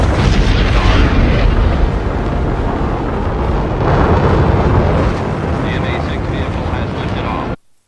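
A deep, rumbling rocket launch roar from the film Hidden Figures, explosive, loud and sustained, under a speaking voice, then it cuts off abruptly.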